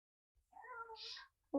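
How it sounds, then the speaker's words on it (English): A pet cat gives a single clear, fairly close meow in a quiet room, followed by a brief onset of another sound at the end. "For my cat's here, by the way."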